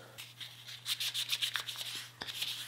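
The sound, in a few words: hand sanding guitar wood with 1200 grit sandpaper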